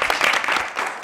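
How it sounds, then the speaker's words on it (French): Studio audience applause at the end of a game-show season with Carnegie Mellon students: dense, steady clapping from many hands over a short stretch, fairly loud and close, with no speech over it. "J'aimerais qu'on applaudisse pour Junior."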